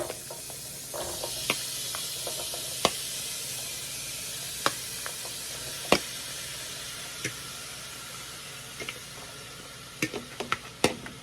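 Vegetables and seasoning sizzle in a hot pan as jambalaya pasta is cooked, a steady frying hiss with scattered sharp pops and crackles, no talk.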